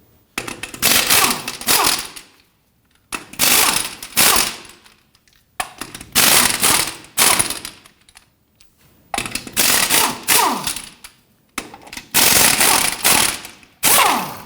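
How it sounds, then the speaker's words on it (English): Lug nuts being loosened and removed from a Jeep Patriot wheel, heard as five loud bursts of rapid mechanical rattling, each lasting one to two seconds and separated by short silent pauses. "Let's go ahead and loosen and remove our lug nuts."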